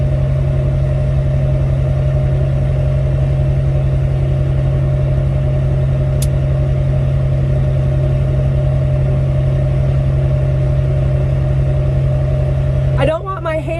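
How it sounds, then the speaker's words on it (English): A farm diesel engine that runs around the clock, droning loud and close with a steady, unbroken low hum, and a brief rattle of handling near the end. "check the engine oil level on this engine, because these things run like 24/7"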